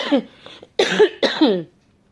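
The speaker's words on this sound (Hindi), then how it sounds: "मेरी तबीयत ठीक नहीं है ना, इसलिए तो बीच बीच में खांसी आ जाती है।" Three harsh coughs in quick succession, close and loud, followed by silence.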